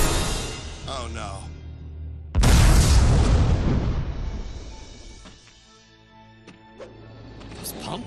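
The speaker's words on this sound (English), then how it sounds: "This pumpkin bomb sure came in handy." A pumpkin bomb explodes in the Spider-Man Friend or Foe video game, a sudden loud boom that cuts off a stretch of speech and rumbles and fades over several seconds, with game voices and effects around it.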